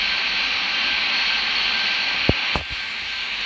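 A jet airliner's engine roars steadily in the Airport Madness 3D air traffic control game, a constant broadband rush filling the whole clip, with a couple of brief sharp clicks near the end and no talking.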